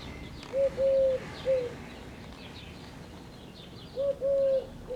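Soft, hollow hoots from a bird heard in a room with a rusted Grundig Majestic 4006 stereo radio: two short paired calls near the start and another pair near the end, each a low, steady tone, fairly distant over quiet background hiss.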